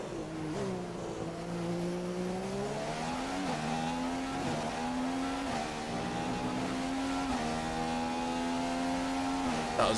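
A Formula 1 car in the F1 2015 video game laps the Bahrain circuit, its high-pitched engine whine rising and falling through gear changes and braking, steady and close throughout with no talk.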